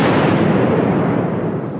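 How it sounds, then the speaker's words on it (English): A bomb detonates inside an airplane's overhead compartment, blasting a hole in the fuselage: a loud, sustained roaring blast that fills the whole moment and slowly fades without any voices. "the second bomb went off."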